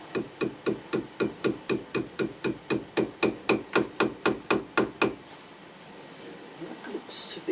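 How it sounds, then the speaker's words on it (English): A small hammer taps a wheel bearing into an MGB/C (Gilbern) hub: a steady run of about twenty sharp metallic taps, evenly spaced and close, then stopping to quiet shuffling. "I shall just tap that in with a small hammer"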